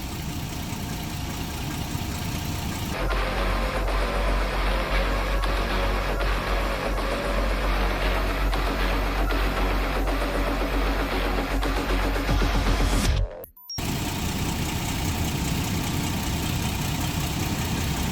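A Toyota 4Runner engine idles steadily in a garage during a transmission fluid fill, a continuous low hum with faint rhythmic ticking, then cut off abruptly near the end before quieter ambient noise.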